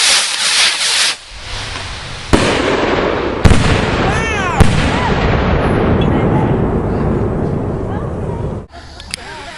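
Fourth of July fireworks exploding close by in a loud, continuous barrage of sharp bangs and crackling, with several heavy booms and whistling rockets rising over the roar, people's voices faintly mixed in.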